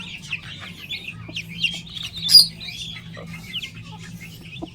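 A backyard hen with her six chicks, clucking low and steady while thin chick peeps chirp in quick bursts above, near and moderately loud, with one brighter call standing out midway.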